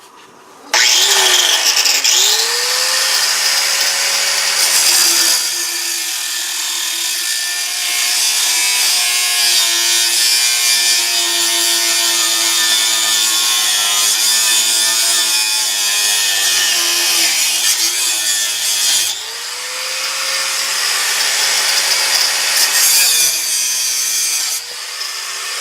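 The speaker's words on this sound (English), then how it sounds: "How did the sawzall go through that material?" A sawzall cuts through the exhaust pipe of a 2006 Ram Turbo Diesel, a loud close rasping buzz that runs nearly nonstop for about 25 seconds, its pitch rising and falling as the blade bites.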